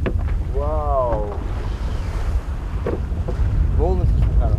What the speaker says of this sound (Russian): Волны слишком хорошие. Да, такая волна.